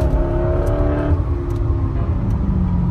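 Car exhaust pipes rumbling while driving with the sunroof open, a steady low throaty drone that shifts pitch as the engine revs and settles, loud and close, heard from inside the cabin.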